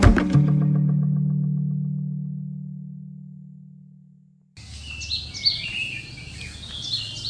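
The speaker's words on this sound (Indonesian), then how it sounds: "Burung berkicau menambah keindahan pagi yang cerah dan damai" Birds chirp and twitter on a bright, calm morning, a busy layered chorus of small calls fairly close, entering abruptly after a fading low sustained tone.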